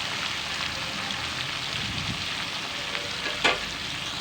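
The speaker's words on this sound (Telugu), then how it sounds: "ఇలా మొత్తం అంతా కలిపేసి ఫ్రై చేసుకుంటూ ఉండాలి" Sliced bitter gourd sizzles and crackles as it fries in a pan, with occasional stirring scrapes and a louder clink near the end; steady, close, no talking.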